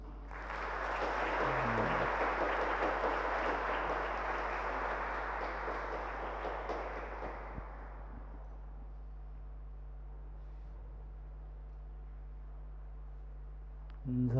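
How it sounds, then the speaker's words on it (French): A church congregation at a Saturday mass applauds together, a dense clapping that holds for several seconds and then tapers off into the quiet, hum-filled room. "nous les applaudissons"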